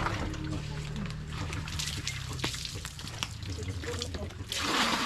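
Water is poured over a person during a bath, splashing and trickling steadily in close range, with voices talking over much of it and a brighter gush near the end.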